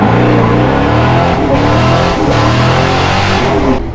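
Square-body truck with brand new tires driving smoothly, its engine droning loud and steady close by with a brief lift in the middle, no talking over it.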